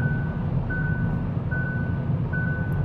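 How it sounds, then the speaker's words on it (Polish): A 2021 Kia ProCeed GT lane assist warning beeps repeatedly at even intervals, long evenly spaced beeps over a low driving hum. "i alarmuje cały czas i wizualnie, i piszczeniem"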